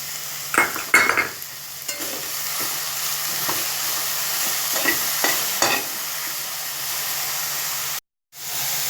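Broccoli frying in a pan with a steady sizzle, punctuated by repeated scraping stirs and utensil clinks, then a brief cutout near the end.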